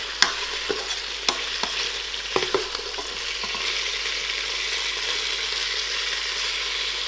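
Beef pieces browning for a stew in a pressure cooker give a steady, close sizzle with a few sharp clicks and scrapes from stirring near the start, and no voices.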